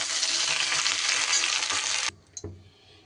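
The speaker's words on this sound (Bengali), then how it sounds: "এদিকে শিমগুলোও কিন্তু আমার বেশ সুন্দর করে ভাজা হয়ে গেছে" Flat beans fry in hot oil in a wok with a loud, dense, steady sizzle that cuts off abruptly, followed by a brief clink and quiet.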